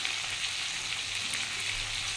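Ground cumin and chili powder sizzle steadily in hot oil in a pan, a soft continuous frying hiss heard up close with no talk.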